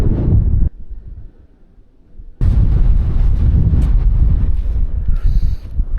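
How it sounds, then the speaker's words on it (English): Fierce wind roaring across an open hilltop above pine forest at a dirt-bike wild camp, loud broadband buffeting on the microphone that drops briefly to a low rumble before surging back strong and steady. "Proper fierce wind."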